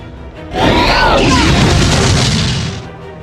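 Explosion of the Sidrax, a loud sudden boom that swells into a sustained roaring blast for about two seconds before fading out, heard alone without talk.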